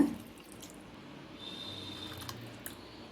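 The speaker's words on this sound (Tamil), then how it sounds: "மிக்சி கொஞ்சோண்டு அலசி இதிலேயே ஊற்றிடலாங்க" Water splashes and trickles softly as a mixer jar is rinsed and the rinse water is poured into poha and jaggery paniyaram batter, a faint continuous running sound in a home kitchen.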